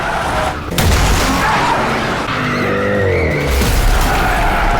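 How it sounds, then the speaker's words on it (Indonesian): A car races at high speed in a film scene, with loud tire squeals and a roaring engine surging close by, joined by heavy impact-like bursts over a continuous rush of noise. "sebuah mobil melaju dengan kecepatan tinggi"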